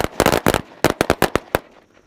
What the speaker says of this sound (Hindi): और देख सकते हो यार लाल पटाखे कुछ इस टाइप के चले